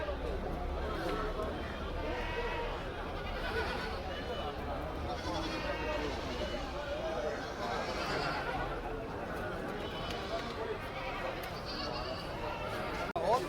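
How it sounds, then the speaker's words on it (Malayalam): Goats bleat repeatedly as sold goats are loaded onto a vehicle amid a busy market crowd, with people chattering and calling out close by throughout. "കച്ചവടമായ ആടുകൾ ഇങ്ങനെ വണ്ടിയിൽ കയറ്റിക്കൊണ്ടിരിക്കുകയാണ്"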